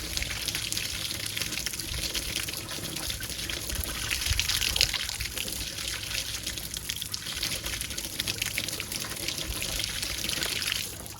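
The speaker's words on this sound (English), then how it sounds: "You can see the water's done filled the tank up because it's coming out the waste." Water overflows from a VEVOR 16-inch pool sand filter tank, run by a 1 HP pump, and pours out of the waste line in a continuous rushing, splashing flow, steady and fairly close throughout.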